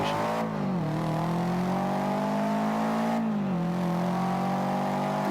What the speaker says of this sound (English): this Subaru that I'm about to drive now technically should be better